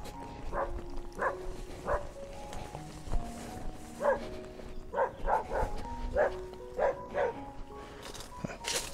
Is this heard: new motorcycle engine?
no